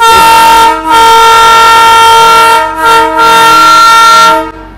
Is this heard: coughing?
no